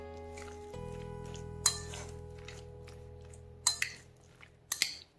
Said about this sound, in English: once I put the desired sugar I usually mix them all up